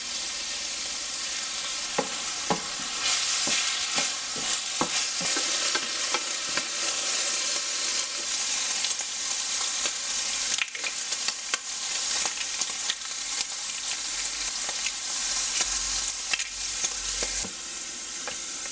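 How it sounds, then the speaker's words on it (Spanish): Carrot and onion fry in olive oil for Latin-style fried rice, a steady moderate sizzle with frequent spatula scrapes and clicks throughout, close by with no talking. "Vamos a cocinar la zanahoria."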